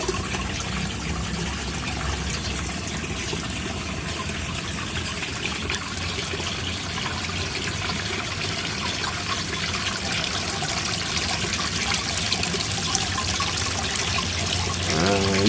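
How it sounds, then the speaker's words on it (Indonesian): Small garden waterfall trickling into a koi pond, a steady broadband splash and gurgle running continuously and fairly close throughout, with no talking. "Ini saya kasih sedikit air terjun biar sedikit agak enak dilihat."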